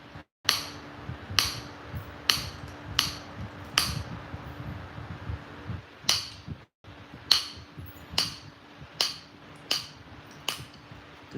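Flint knapping on a stone spearhead, with a dozen or so sharp, crisp clicks and taps at irregular intervals over a low background hum, close and fairly quiet.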